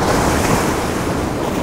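Ocean waves rush back out over the shore in a steady, loud wash of surf with some wind noise on the microphone, close and continuous with no talking.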